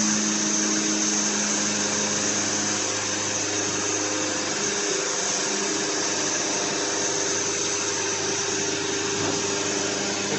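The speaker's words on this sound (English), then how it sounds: "I think we should turn on the pump." Steady electric pump whine of a Vevor ATF-200T transmission flushing machine running on a 2008 Ford F150, a constant close drone with even tone and no pauses or speech.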